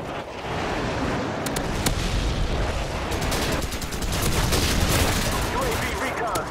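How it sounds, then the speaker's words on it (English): Dense, loud Call of Duty 4 battle noise on the Backlot map: overlapping rapid gunfire and booming airstrike blasts form a constant roar, with voices calling out beneath the barrage. "Friendly airstrike on the way!"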